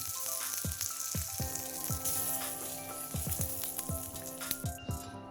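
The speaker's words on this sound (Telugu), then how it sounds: "మళ్ళీ ఒక చెంచా నూనె వేడి చేసుకొని ఒక ముప్పావు చెంచా ఆవాలు, ఒక అర చెంచా జీలకర్ర, ఒక ఎండుమిరపకాయ, కొద్దిగా కరివేపాకు, కొంచెం ఇంగువ వేసుకొని మళ్ళీ పోపు పెట్టుకోవాలి." Mustard seeds, cumin, a dried red chilli, curry leaves and asafoetida sizzle and pop in a spoonful of hot oil, with sharp crackling bursts over a steady frying hiss, close and fairly quiet.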